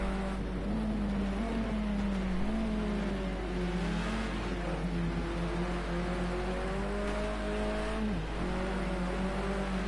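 A race car in a PS4 racing game drifts around a hairpin, its engine droning and revving with wavering pitch, tires and motor steady and close throughout.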